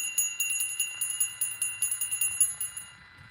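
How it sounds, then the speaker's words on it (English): A small bell is struck repeatedly in a quick, uneven series of bright metallic rings with shimmering overtones, fairly faint and unaccompanied by talk, used in a tarot reading to clear the energy. "I'm going to ring this bell."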